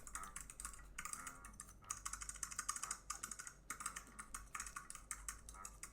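Rapid, close keyboard typing with crisp clicks in quick bursts and short pauses, fairly quiet and alone.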